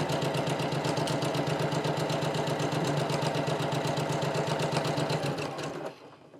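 A sewing machine stitches down a fabric edge while sewing boxed corners on a bag, its rapid, even needle chatter close and continuous for several seconds before it slows and stops.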